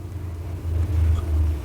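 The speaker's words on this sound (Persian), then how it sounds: "من این صدای ماشینا رو شنیدم" A car engine rumbles low and steady, its drone swelling as it seems to draw closer, with no voices.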